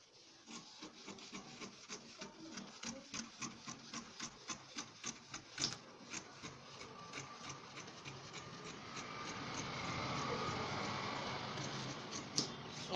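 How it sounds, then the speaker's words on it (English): Scissors trim through trouser fabric while a pant is cut, giving a steady run of close, rhythmic snipping and rasping strokes that swell into a denser, louder cutting sound toward the end, with no talking. "I'm going to trim out this part to have the same shape with the front,"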